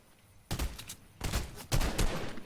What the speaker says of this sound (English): Shots from behind.